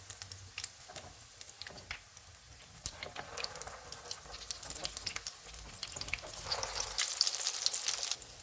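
Chicken shami kababs fry in oil over low-to-medium heat, a quiet, steady sizzle with faint pops and small clinks, growing slightly busier toward the end, with no voices.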